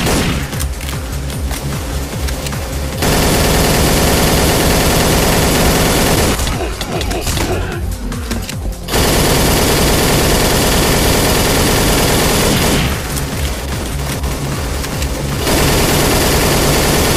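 Sustained automatic gunfire from the video game Codename CURE, dense loud bursts in three long stretches with short gaps between, backed by game engine and battle noise.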